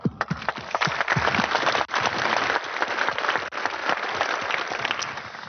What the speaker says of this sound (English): I want to give a special clap to them